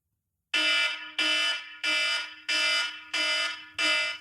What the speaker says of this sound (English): every 5 minutes that alarm will go off